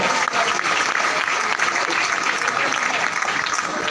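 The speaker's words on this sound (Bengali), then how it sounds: "তাহলে একটা জোরে তালি হবে আমাদের সিস্টেমের জন্য" An audience at a training session bursts into steady, loud applause, a dense continuous wash of clapping from many hands with a voice faintly under it.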